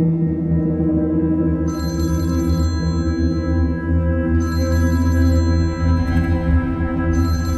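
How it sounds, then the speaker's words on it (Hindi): A phone ringtone chirps in repeated electronic bursts over a loud, steady humming background, the rings recurring at regular intervals. "इसका फोन बज रहा है काफी देर से"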